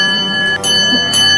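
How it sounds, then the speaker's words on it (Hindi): A bell rings loudly and clearly, with two bright metallic strikes and a sustained ringing tone between them. "गली में घंटी बजने की आवाज आती है।"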